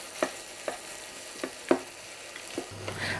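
Onions fry in a pan with a soft, low sizzle, broken by several separate scraping stirs that come at a steady pace, close and fairly quiet.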